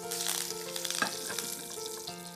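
Chili and garlic paste fries slowly in a pan, a steady soft crackling sizzle with a few brief louder pops, heard up close with no talking over it.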